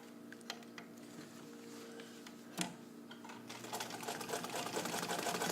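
A restored all-metal vintage Necchi BU Nova sewing machine running a zigzag stitch with back tacking, a quiet rapid mechanical whir and ticking that picks up speed and grows louder toward the end.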